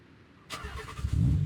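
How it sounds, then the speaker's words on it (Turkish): A Shelby GT500 engine starts in Euro Truck Simulator 2 with a sudden crank and catch, then settles into a low, rumbling idle that swells as it revs slightly. "Bir motor sesini dinleyelim."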